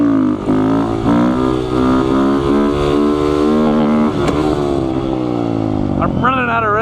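A Honda Grom motorcycle engine revs hard and continuously during wheelie riding, its pitch climbing, dipping and climbing again as the throttle is worked, loud and close throughout.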